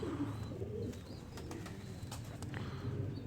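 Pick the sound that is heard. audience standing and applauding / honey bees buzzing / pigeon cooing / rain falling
pigeon cooing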